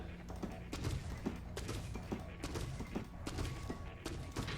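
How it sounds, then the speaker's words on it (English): Heavy footsteps of the large fighter Gigas in Tekken 7 training mode, a series of irregular thuds and impacts at moderate volume over low game background noise. "I like his footstep sound effects."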